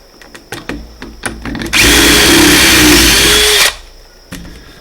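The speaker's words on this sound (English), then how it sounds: "I'm going to drill the hole." A power drill whirs loudly for about two seconds, preceded by scattered clicks and handling taps, then winds down abruptly.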